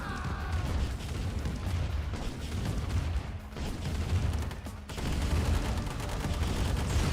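Refineries are destroyed during a Command & Conquer Remastered battle against massed grenadiers and minigunners, with dense, continuous gunfire and booming explosions that stay loud throughout.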